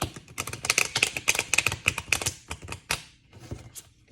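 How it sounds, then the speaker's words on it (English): Quick, crisp clicking and tapping in bursts as stiff tarot cards are riffled and shuffled close by, with brief pauses between flurries. "let's shuffle them up and get a card"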